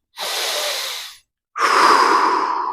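Two slow breaths close to the mic during a relaxation and mobility routine: a soft inhale drawn through the nose, a pause, then a longer, louder exhale pushed out through the mouth, with no talking.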